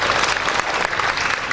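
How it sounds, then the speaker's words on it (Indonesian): Audience applause fills a church healthy-living talk session, a dense, steady burst of clapping from many hands, loud and close throughout with no speech over it. "Mau tepuk tangan buat firman Tuhan?"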